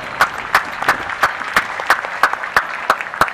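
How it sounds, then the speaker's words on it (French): An audience at a youth conference debate for World Youth Day 2016 claps in slow, even unison, about three sharp beats a second, fairly close and with no talking over it. "je vous demande pour nous applaudir chaudement"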